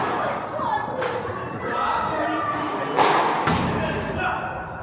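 A padel ball striking the metal fence grille during a P1000 tournament final, with sharp thuds and a rattling knock against the mesh amid rally hits, crowd noise and a commentator talking throughout.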